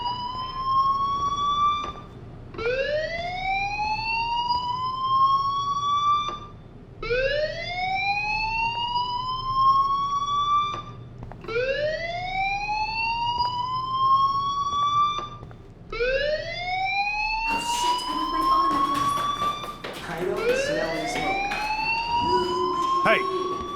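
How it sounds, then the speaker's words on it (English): Fire alarm in the video game Life Is Strange, a repeating rising electronic whoop cycling every few seconds, loud and alone, with a clattering crash near the end. "Hey, do you hear that fire alarm?"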